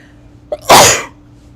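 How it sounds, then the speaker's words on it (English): A single loud, close sneeze with a brief sharp intake just before the main burst, heard alone in a quiet room. "I have to sneeze again."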